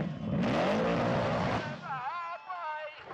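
Engine revving hard at a burnout finals event, a loud roaring drone with shifting pitch that rises and falls toward the end, with voices talking over it.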